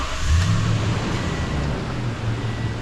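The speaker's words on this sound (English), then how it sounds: "start the engine for power steering assist" A car engine turns over and settles into a steady low idle in a workshop during a computerized wheel alignment setup, the rumble loud and continuous with no talk over it.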